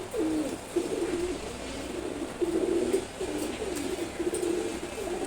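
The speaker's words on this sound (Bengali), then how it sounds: "রেড চেকার্ড কবুতর জোড়া," A pair of red checkered pigeons coo repeatedly, close up, in soft rolling calls that rise and fall every second or so over a faint background hiss.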